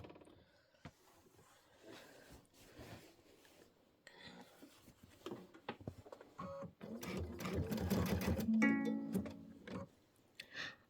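An embroidery sewing machine stitches bat appliqué shapes, its needle chattering in bursts that swell into a loud, steady whirr near the end, close by and with no talking.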